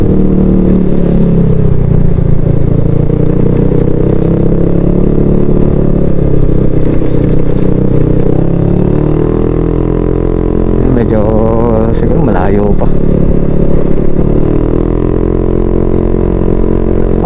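A motorcycle rides a rough, steep mountain road toward a waterfall, its engine droning loudly and continuously up close with shifts in revs, while a voice talks over it.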